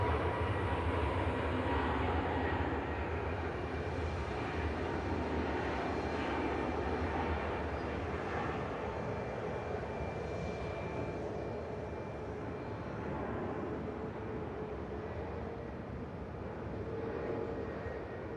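An airliner departs from Manchester Airport, a continuous broad engine roar holding steady at a distance for the whole stretch, with no talk over it.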